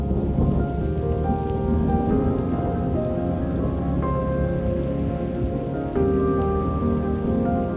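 Steady rain falls while low thunder rumbles and rolls throughout, loud and enveloping, with no one speaking.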